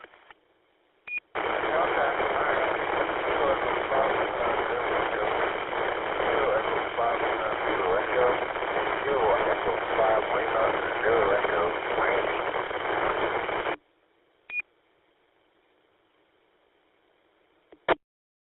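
A faint ham radio transmission is buried in static. A steady band of hiss fills the channel for about twelve seconds, a weak voice is barely audible within it, and clicks sound as the channel opens and closes.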